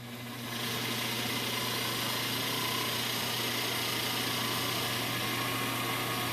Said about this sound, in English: you can hear both blower motors come on